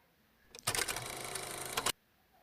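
Sewing machine stitching denim stretch fabric, one fast continuous run of needle chatter lasting just over a second, loud and close, starting and stopping sharply against a quiet room.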